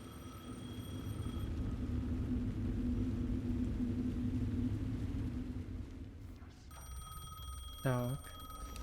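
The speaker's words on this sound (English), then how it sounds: "The phone again." A telephone rings in the video game Alan Wake 2, a loud ring bursting out near the end over a low rumbling ambience and steady background tones.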